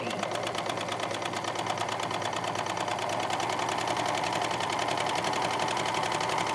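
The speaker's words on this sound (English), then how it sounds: "my machine is threaded with 4 threads and basically a woolly nylon so that I get really nice coverage on the edge" A serger threaded with four threads, including woolly nylon, stitches along the edge of a flannel towel, giving a fast, steady mechanical whir with rapid even stitching pulses, close and loud without pause.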